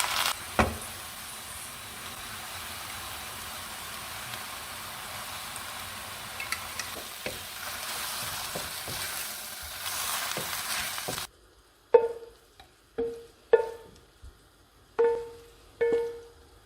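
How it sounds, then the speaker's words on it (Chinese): Youmaicai (Indian lettuce) hits hot oil in a wok with a loud, steady sizzle. It then breaks into several sharp, separate bursts of frying as the greens are stirred. "油热了就放入油麦菜搅拌一下"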